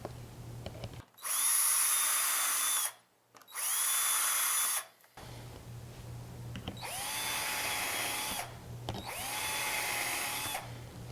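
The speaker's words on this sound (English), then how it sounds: "Now use your Vicks bit and pre-drill your screw holes." A power drill with a Vix bit whirs in four separate bursts of a few seconds each, pre-drilling screw holes in a cabinet, close and loud, with quiet pauses and a low hum between them.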